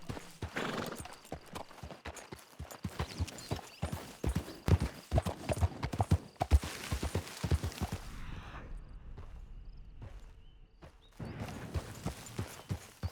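Horse hooves clip-clop steadily at a ride in Red Dead Redemption 2 on the way from Blackwater to Tumbleweed, close and rhythmic, with an occasional whinny, fading to near quiet before the hoofbeats return.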